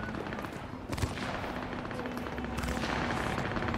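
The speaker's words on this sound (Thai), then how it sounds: "เสียงปืนน่ากลัวเลยว่ะ" Rapid bursts of gunfire crackle in Cyberpunk 2077, mixed with bangs and background effects, moderately loud and continuing throughout.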